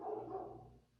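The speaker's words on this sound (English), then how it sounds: "Sorry about the dogs barking." Dogs bark in the distance outside a home workshop, a faint, muffled burst that fades out within about a second.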